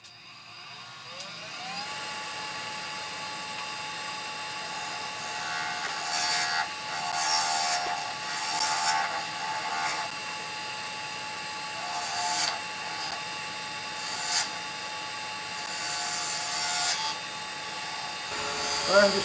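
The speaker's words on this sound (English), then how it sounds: "I'm just using the skew again as a scraper." A skew chisel held flat as a scraper works wood spinning on a lathe, giving a steady, fairly quiet scraping whir over the motor's hum, with light rhythmic surges as the tool rounds the piece over, and no talking.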